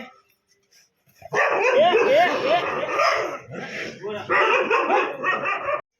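A dog barks and yips repeatedly, close and fairly loud, in quick bursts with brief pauses, after a quiet start.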